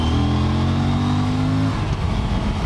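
An Aprilia RS 457 sport motorcycle revs loudly and close by, its engine holding a high steady note before dropping off into a rougher idle.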